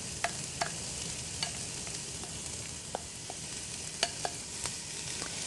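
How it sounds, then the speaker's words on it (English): Minced onion and garlic sizzling in a preheated pan, a steady soft frying hiss with occasional small crackles and pops, close but fairly quiet, no talk. "it's starting to sizzle"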